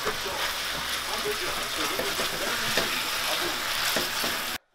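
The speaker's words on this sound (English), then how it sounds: "I'm going to stir in this tomato paste now" Tomato paste stirred into a hot pan, with a steady loud sizzle and frying crackle throughout and scraping stir strokes, ending abruptly.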